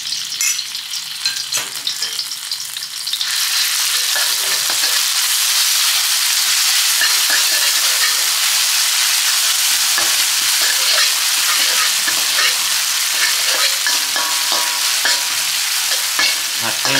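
Chili and garlic stir-fried in a little oil that is not yet hot, a steady loud sizzle rising after a quieter start, with scraping stirs throughout and no talking.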